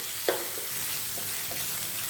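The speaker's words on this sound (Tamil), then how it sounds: "லைட்டாக ஃப்ரை பண்ணிக்கலாம்" Steady sizzling of green chillies frying in a pan for prawn dry roast, with a few soft stirring scrapes and clinks; no talking.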